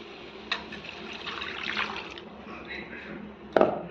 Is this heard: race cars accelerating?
no